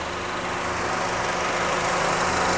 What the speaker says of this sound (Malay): Tengok enjin dia masih smooth lagi, senyap lagi enjin dia.